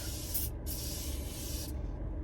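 A cooling face setting spray hisses from an aerosol can in two close bursts, a short puff followed by a longer steady spray of about a second, quiet and alone.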